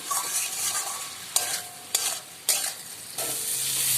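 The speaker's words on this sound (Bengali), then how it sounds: "এবার মশলাটাকে দিয়ে আলুটা কষাবো।" Potatoes and spices are stirred and sautéed in a hot pan with oil, a soft continuous sizzle broken by several sharp scraping strokes of the spoon, close up with no voices.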